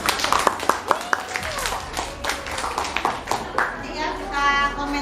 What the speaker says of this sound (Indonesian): Yuk, aplaus untuk kelompok.